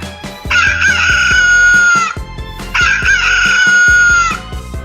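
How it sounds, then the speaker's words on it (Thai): A chicken gives two loud, drawn-out calls, each lasting over a second, separated by a short pause, with soft clucks and rustling underneath. "เสียงของไก่"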